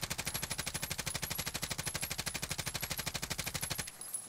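Rapid sustained automatic gunfire from a KSP gun in Warzone, a fast, even burst of about forty close, punchy shots lasting nearly four seconds before cutting off abruptly.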